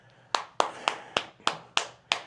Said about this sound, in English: I'm clapping for us.